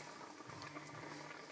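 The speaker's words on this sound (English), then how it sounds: "so this is boiling" Chunky garden vegetable sauce boils in a pot, a faint, soft bubbling and popping that continues steadily with no talking.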